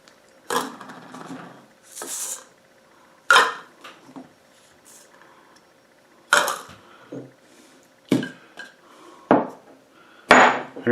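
Small hard knocks and clinks of spoons and containers against a small bowl as seasonings for a homemade Cajun blend are added, in several separate bursts with quiet gaps between, close and alone.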